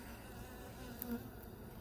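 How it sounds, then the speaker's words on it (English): A honey bee's wings flap in a soft, steady buzz close by at a hive colony, a faint continuous drone lasting under two seconds with no talk. "Just note this bee here. Yeah, flapping its wings."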